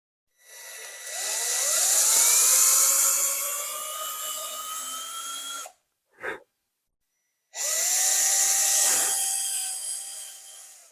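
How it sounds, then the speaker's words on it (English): A power drill bores holes into the bottom panel of an IKEA Billy bookcase, two long whining runs with rising pitch and a brief burst between them, close and loud. "now I'm just going to drill my holes into the bottom piece"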